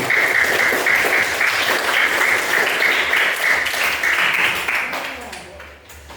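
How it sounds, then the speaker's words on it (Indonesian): A crowd of students and teachers at an elementary school graduation announcement breaks into loud, continuous applause, mixed with voices, which holds steady and then quickly dies away at the end. "Tepuk tangan buat kita semuanya"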